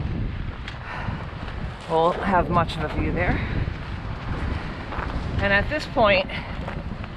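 Gusty wind on a mountain ridge in the Carter range buffets the microphone with a steady roar while a person talks over it, the rumble swelling between phrases.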